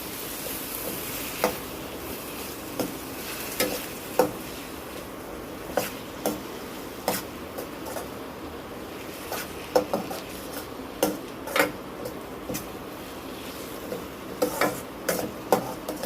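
A spoon stirs potato curry with salt in a pan, giving regular scraping clinks against the metal under a soft frying sizzle, close and steady.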